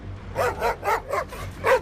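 Stray street dogs bark in a run of five or six sharp, fairly close yaps at an uneven pace, with no voices.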